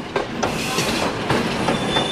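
A train rolls steadily along overgrown tracks in rural Albania, a continuous loud rumble with faint clickety-clack and a few wheel squeals, heard from on board with no voices.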